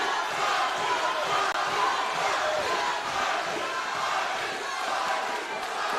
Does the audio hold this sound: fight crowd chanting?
yes